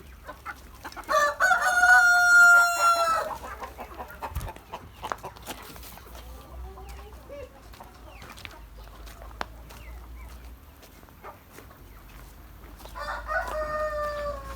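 Roosters and chickens in a backyard coop: a loud, close rooster crow rings out early, hens cluck softly through the middle, and a second crow rises near the end.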